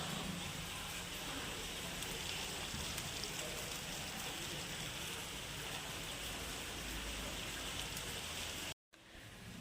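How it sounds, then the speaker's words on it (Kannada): Steady rain falls from early morning onto the surfaces around a new house under construction, a continuous dense hiss that stays even and fairly quiet throughout, with no voices over it. "ಮಳೆ ಬೆಳಗ್ಗೆ 4 ಗಂಟೆಯಿಂದ ಬರಾಕತ್ತೈತ್ರಿ."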